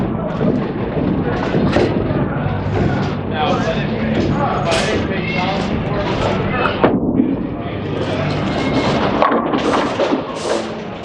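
A Reality Check bowling ball rolling down a lane toward the pins, with a steady low rumble that runs throughout and a louder impact partway along, while someone talks over the whole roll.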